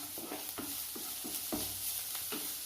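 Crushed garlic-ginger paste and curry leaves fry with onion for an egg curry, a steady close sizzle broken by repeated spoon stirs and scrapes in the pan, with no voices.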